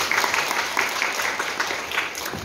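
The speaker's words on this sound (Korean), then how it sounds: "어차피 우리는 다 희망을 꿈꾸니까 박수 한번 주시죠" Loud, dense applause from a theatre audience at a special curtain call for a musical, steady claps filling the space continuously without pause.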